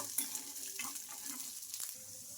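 Green chillies and peanuts fry in hot oil in a pan, giving a soft, steady hissing sizzle with faint crackles. The sound is quiet and brief, with no voices.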